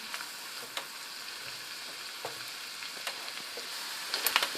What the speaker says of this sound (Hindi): थोड़ा सा फ्राई हो गया प्याज, ये लहसुन डाल दिया बीच में